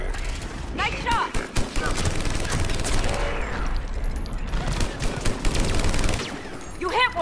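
Gunfire in the sci-fi shooter Mass Effect Legendary Edition: sustained, dense bursts of automatic weapon fire with overlapping shots and mechanical clatter, loud and continuous across the clip, with combat voices and effects mixed in.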